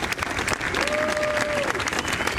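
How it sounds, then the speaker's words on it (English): Applause at the White House after executive orders are signed: a loud, dense burst of clapping from a gathered crowd, continuous through the short stretch. "U.S. President Donald Trump receiving applause at the White House after signing new executive orders"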